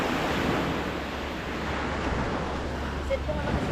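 Sea surf churned up after rain, a steady broadband wash of breaking waves with wind buffeting the microphone, constant and fairly close throughout.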